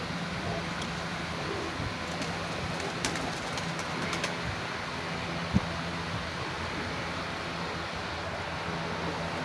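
A tiger pigeon coos softly amid a steady outdoor wash of background noise, its low repeated calls faint and continuous across the scene.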